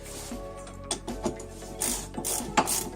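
Ratchet tightening a bolt on a Honda Civic coilover, close quick clicking strokes in short bursts, alone without talk.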